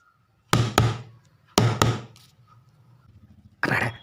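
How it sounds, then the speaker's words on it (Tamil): Knuckles knock on a house door in a comedy skit: a close, loud double knock, a second double knock a second later, then one more knock after a pause. "கதவை தட்டுவோம்"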